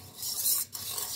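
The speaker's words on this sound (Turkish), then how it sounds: "Şeker ve maya erinceye kadar çırpıyoruz." Milk, oil, sugar and yeast being whisked together in a bowl, heard as a brief, steady scraping swish with a short gap near the end, fairly quiet and with no voices.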